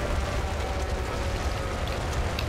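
A steady, dense crackling hiss of burning fire on a damaged aircraft in the War Thunder video game, continuous and even in level with no voices over it.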